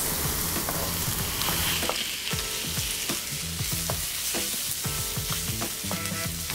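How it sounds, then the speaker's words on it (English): Prawns sizzle and crackle in hot oil with garlic and onion, a loud, dense frying hiss with irregular scrapes and taps of stirring over it. "Now I'm gonna add in my prawns."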